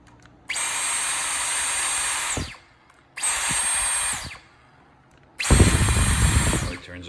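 Dyson V10/V11 cordless vacuum with a repaired trigger switched on and off three times, a high whirring motor spinning up and winding down in separate bursts of about two seconds each, close and steady, with near silence between runs.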